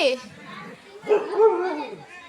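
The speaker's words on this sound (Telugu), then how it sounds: "మా చెల్లెలు వాళ్ళు పెంచుకునే కుక్క" A dog barks a few times close by, short sharp yelps mixed with voices talking around it.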